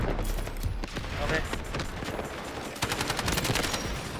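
Rapid gunfire in the video game Delta Force crackles in dense, sustained bursts, with a mix of shots and blasts running throughout and voices faintly underneath.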